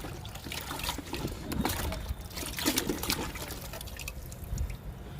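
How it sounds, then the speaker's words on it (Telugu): Water pours and trickles onto the soil around a lemon plant in a home garden, a steady splashing flow with drips, continuous and fairly close. "ఇప్పుడు వాటర్ ఇచ్చేద్దాము నిమ్మ మొక్కకి"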